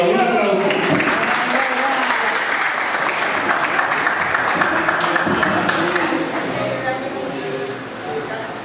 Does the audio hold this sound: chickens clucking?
no